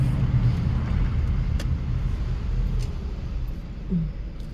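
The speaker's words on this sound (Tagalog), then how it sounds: "Nabutan kami ng traffic." Slow road traffic in Abu Dhabi gives a soft, continuous low rumble of idling and creeping cars, fairly faint and steady, with no voices.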